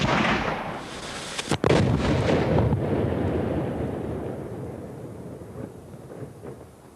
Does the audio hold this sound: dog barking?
no